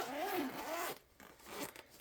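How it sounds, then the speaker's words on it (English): Zipper on a colored pencil bag drawn open in one quick, close rasping pull, then a few faint rustles. "somewhere there's a zipper here"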